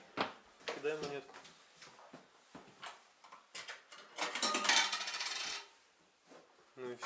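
A coin rattles into the slot of a hostel shower coin box in Norway, with a few quiet metallic clinks and clicks close by while people talk softly.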